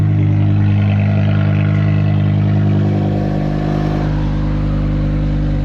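A BMW M5 E60 V10 idling and revving through its factory mufflers, a loud, close, smooth multi-cylinder drone whose pitch rises and settles as the engine builds revs.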